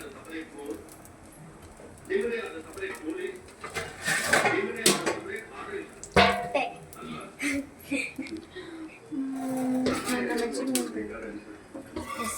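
A plate is picked up and dishes clatter and clink in a home kitchen where dosa is being made, several sharp knocks scattered through the clip under ongoing talking.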